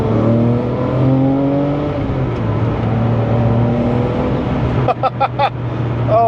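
A fast, rebuilt car with reworked front-end springs accelerates hard in a quick pull, the engine note climbing steadily and loud up close, with a few short vocal bursts near the end.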